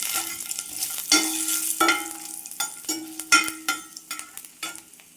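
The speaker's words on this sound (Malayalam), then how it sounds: "അതൊരു പാദ്യം ഒരു വെട്ടുന്ന സമയത്ത് നമുക്ക് ഇഞ്ചിയും വെളുത്തുള്ളിയും ചേർത്ത് കൊടുക്കാം." Ginger and garlic sauté in a pan for a chammanthi chutney, with a soft steady sizzle broken by repeated scraping stirs of a spoon every half second or so, close and fairly loud, with no voices.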